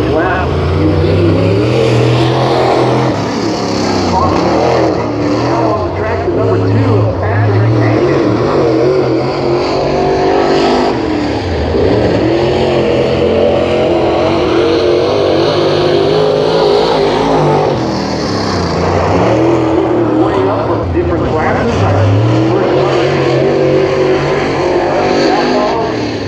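A race car runs a lap on a track, its engine droning loud and steady throughout with rising and falling pitch as it accelerates, while an announcer talks over it.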